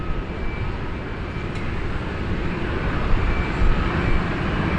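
Capital Airlines flight 181, arriving from Zhengzhou, China, lands at Sydney Airport in the rain, its engines making a steady, loud roar that swells slightly toward the end, with no voices.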